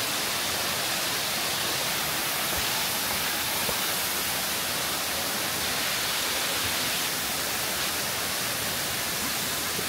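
Empress Falls in the Blue Mountains pours down in a constant, dense hiss of falling water, close and steady from start to finish with no voices.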